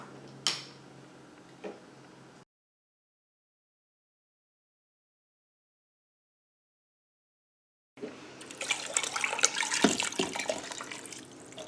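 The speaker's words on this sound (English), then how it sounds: "I'm going to top it off with water above the chicken" Tap water runs into a large pot over a whole chicken for homemade soup. Faint trickling and ticks come first, then a stretch of silence, then a louder, close splashing pour with no talking.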